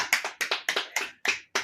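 Several sharp hand claps in an irregular rhythm, close and fairly crisp, with short pauses between them.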